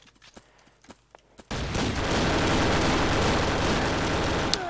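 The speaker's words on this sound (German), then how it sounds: "Soll ich mal ein bisschen mit der Pistole kämpfen?" Pistol gunfire in the video game Brick Force: a few sharp scattered shots, then a loud, dense, sustained burst of rapid firing that fills the rest of the moment, with no talk.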